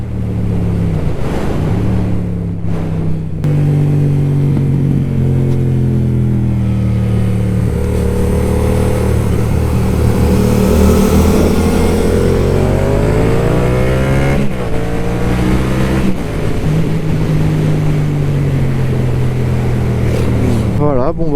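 A Yamaha MT-07 motorcycle is ridden with a loud, close engine note that rises and falls through several revs and gear changes, sweeping up and down in pitch, with a voice speaking briefly over it.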